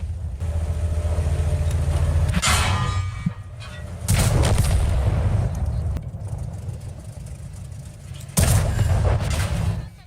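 Heavy tank guns fire in World of Tanks around a Grille 15 tank destroyer, with three loud, close booming blasts spaced several seconds apart over a continuous engine rumble, and someone talks in between.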